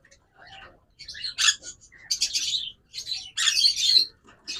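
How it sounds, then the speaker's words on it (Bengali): A pair of double red factor green-cheeked conures chirping up close, bursts of shrill, raspy squawks and tweets coming in quick clusters with short gaps between them. "এখানে দেখবেন চমৎকার একটা গ্রিন চিক কুনুর জোড়া"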